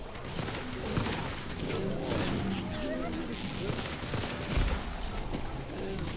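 A dense, continuous barrage of cartoonish explosions and blasts fills a chaotic level of the Plants vs. Zombies 2 video game, loud and unbroken with rumbling thuds scattered throughout.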